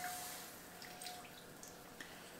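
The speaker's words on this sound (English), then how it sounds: "We're gonna add half of our lime zest and half of our lime juice" Half a portion of lime juice, with some lime zest, goes into a pot of broth, a faint, soft trickle with a few small drips and splashes over quiet background hiss, and no voices.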